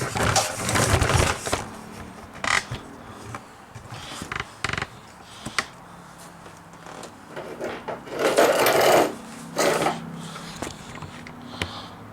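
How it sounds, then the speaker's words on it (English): The small electric motor of a Taylor Hobson Model A engraving pantograph whirs and rattles close by in uneven bursts, with mechanical clicks and knocks between the louder runs. "this little motor for the Model A"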